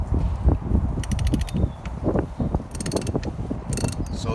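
A ratchet cranks a 22mm socket while removing the PCV valve on a 2005 Toyota Camry, giving close, loud bursts of rapid clicking interleaved with knocks and handling noise.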